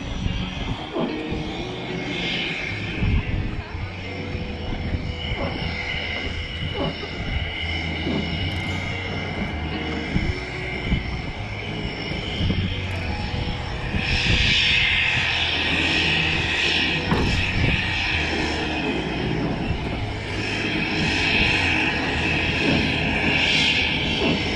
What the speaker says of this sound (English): There's the third plane, just popped over the range.